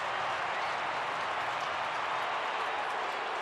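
An NFL stadium crowd at a 2015 Sunday night Broncos–Packers game, booing after a penalty flag, forms a dense, loud, unbroken roar that fills the whole moment without pause.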